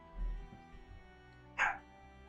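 A dog named Yuna barks once, a short, fairly distant yip in a quiet room after a low thump, with a faint hum underneath.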